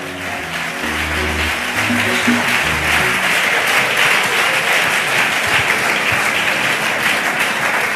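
A church congregation claps and cheers steadily in sustained applause, loud and dense throughout, with a low musical tone underneath and faint voices mixed in.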